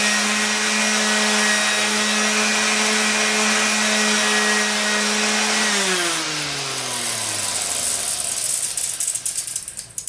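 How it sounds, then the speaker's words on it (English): Power sander working wood pieces for a small spice rack, a loud steady motor whine that holds level, then drops in pitch and trails off near the end, with no talking. "So I got all my pieces sanded really quick"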